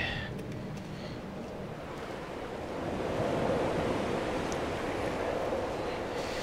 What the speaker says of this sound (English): Sound of the wind.